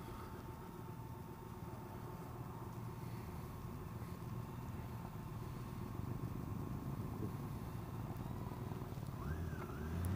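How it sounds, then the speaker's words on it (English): BMW K1600B motorcycle ridden along a road, a steady engine drone and wind rush holding at a constant level throughout, close up with no talk. "Great motorcycle."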